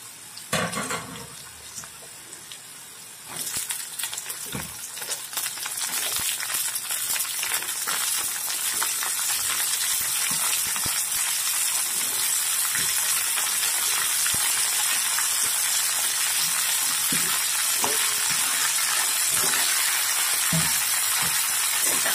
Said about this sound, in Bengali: এবার এতে এতে একে একে সব সবজিগুলো আমি দিয়ে দেব।